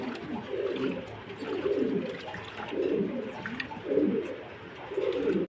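A male pigeon, one of a pair of Torla Hori pigeons, coos in a steady repeating rhythm of soft, low, throaty phrases, close by and with no talking.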